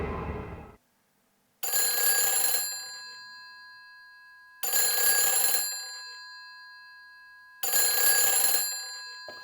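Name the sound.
telephone ringing in Silent Hill 3 video game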